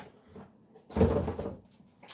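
Car driver's door being handled: a solid thump and rattle in the middle as the door is grabbed and shifted, with lighter knocks before and after. Close, fairly loud, no talking.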